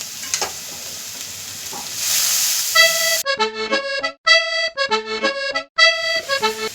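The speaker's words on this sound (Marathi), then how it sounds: "ह्या फोडणीत आपण आता मिक्स करून घेणार आहोत" Salt is stirred into a sizzling onion tempering for kande pohe, a close hiss with a few stirring scrapes, then gives way to bright, plucked music notes.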